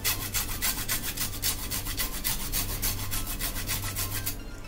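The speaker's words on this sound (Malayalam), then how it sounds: "ഈ ലൈം, അതിൻ്റെ ഈ തൊലി മാത്രം നമുക്ക് ഒന്ന് ഇതിലേക്ക് ചിരണ്ടി കൊടുക്കാം" Lime peel being grated as zest into a fruit salad: close, steady rhythmic scraping strokes with a rasping texture that runs continuously and fades near the end, with no talking.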